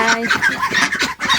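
Chickens clucking up close, several quick overlapping clucks and squawks in a busy, loud burst.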